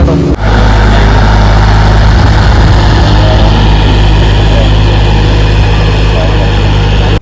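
Two engines drive a fishing boat in a loud, steady, continuous motor drone with a constant low throb from start to finish.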